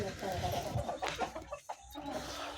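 A small group of about six Aseel chicken chicks cluck and cheep close by in a farm setting, their calls mixed with a person's voice.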